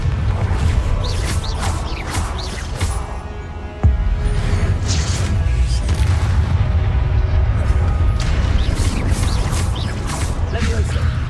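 Repeated booming spell blasts from Confringo in Hogwarts Legacy, a video game, sounding as dense, loud explosive bursts over continuous game noise and effects, with a sharp impact near the four-second mark.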